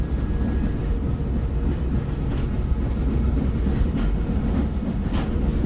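Train rolling on rails in the video game GRUNND, a loud continuous low rumble with faint rhythmic clacks throughout, steady and close with no talking.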